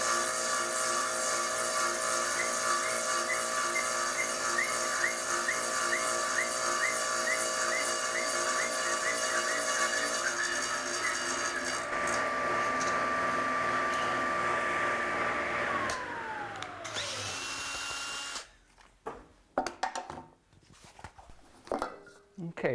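Power tool cutting tenons in logs for a log bench, a steady loud high-pitched whine running for about sixteen seconds, then dropping in pitch as it winds down, followed by quieter clunks and handling noises.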